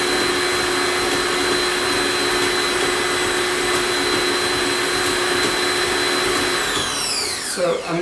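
Pampered Chef stand mixer motor running at high speed, a loud, steady whirring drone with a high whine throughout, winding down abruptly at the end.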